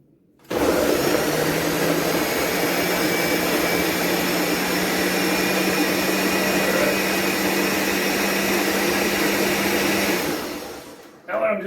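A kitchen blender purees salsa verde with a steady, loud whirring roar that runs for about ten seconds after starting, then cuts off abruptly; no talking over it.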